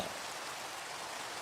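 Rain falling in a blocky sandbox video game at sunrise, a steady, soft hiss of drops with no other sounds, quiet and even for its short length.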